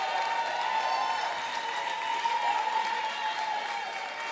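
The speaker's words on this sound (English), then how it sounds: "Give her a round of applause for Tiffany Shaw." Steady, even audience applause at a women's leadership graduation celebration, a dense wash of many hands clapping continuously at moderate volume, with no talk over it.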